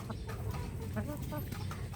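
Hens clucking steadily in short, repeated calls, fairly close, with farmyard background noise throughout.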